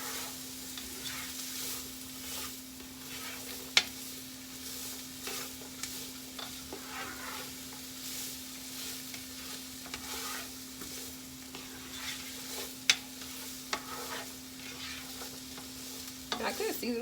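Food frying and sizzling in a pan before cabbage is added, a steady soft hiss with a constant hum underneath and occasional light clicks of stirring utensils, no voices.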